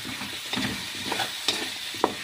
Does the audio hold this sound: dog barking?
no